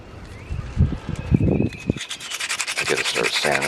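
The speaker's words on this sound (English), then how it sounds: "I gotta start sanding on this." Close, brisk rubbing strokes of sandpaper against a hard G10 black micarta sword handle, uneven at first, then quicker and steadier, with faint handling noises.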